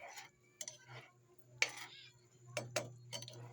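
Adobo being stirred in a cooking pot, spoon clinking and scraping against the metal in a few scattered taps and scrapes at close range over a low steady hum.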